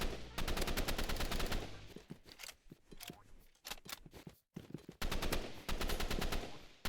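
Rapid assault rifle fire in the video game Rivals, loud close bursts of automatic shots separated by quieter stretches of game sounds.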